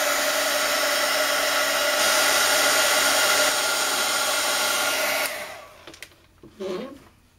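A heat tool blows a steady, loud hot-air whoosh for about five seconds to melt embossing powder, then switches off, leaving faint handling noises and brief rustles.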